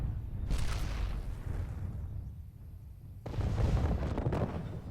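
Mech weapons firing and impacts in the video game MechWarrior Living Legends, a rumbling run of booms and blasts that dips into a quieter stretch before a fresh burst of loud fire.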